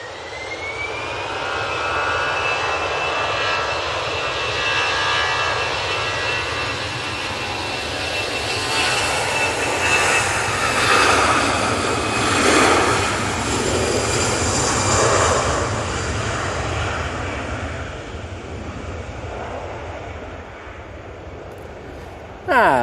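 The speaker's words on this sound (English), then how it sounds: "that's Easyjet A320. It is off to Bilbao" An easyJet Airbus A320 takes off from Manchester Airport bound for Bilbao, its jet engines roaring loudly and steadily with a rising whine for about twenty seconds before easing slightly.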